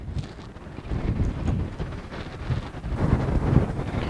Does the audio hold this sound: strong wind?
yes